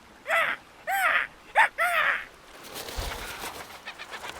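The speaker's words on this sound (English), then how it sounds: "Before Sylus can finish his sentence, Mephisto suddenly cries out. A daring seagull uses his head as a launch pad to take flight." A pet bird gives four loud, separate cries in a row, each a rising-and-falling call, and then a softer rustle of wings as a seagull takes off.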